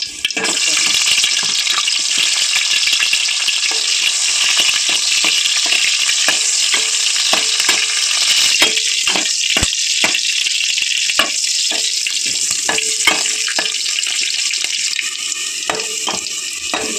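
Chopped onions fry in hot oil for a coastal-style fish curry, a loud, steady sizzle that fills the whole stretch, with occasional clinks and stirring scrapes near the end.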